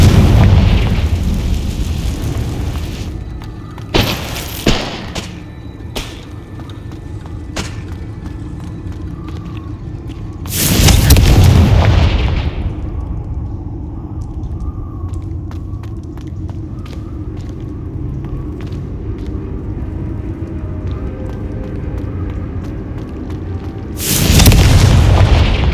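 Loud spell blasts from the Confringo curse in the video game Hogwarts Legacy, heavy booming bursts at two points with a short sharp pop between them, set against a steady low game ambience.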